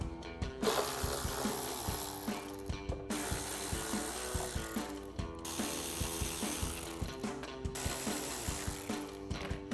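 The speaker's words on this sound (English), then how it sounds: "We're gonna switch to our ratchet and T30 socket." A ratchet fitted with a T30 socket backs out the fog light screws on a 2021-2023 Ford F-150. It gives off rapid, steady clicking that runs almost continuously in close bursts, broken by brief pauses, with no talking.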